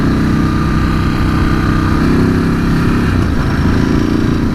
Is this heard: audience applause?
no